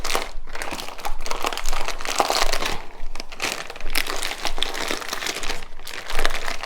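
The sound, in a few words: plastic bag crinkling while mixing hashbrown casserole ingredients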